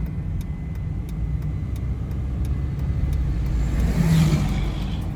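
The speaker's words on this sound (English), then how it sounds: "That trucker was plenty close." A truck rumbles close past on a rural road near farmland and a barn, a loud low engine drone swelling steadily over about five seconds with a brief rise near the end.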